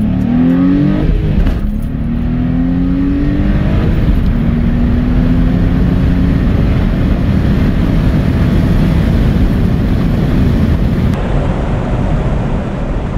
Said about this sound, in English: this is definitely a rev up